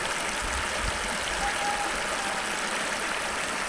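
A river flows right beside a rural village house, a steady, full rushing wash that stays constant and close throughout.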